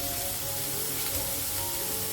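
Chapli kabab sizzles loudly and steadily in a hot frying pan as it is flipped, a close, continuous crackling hiss with no voices.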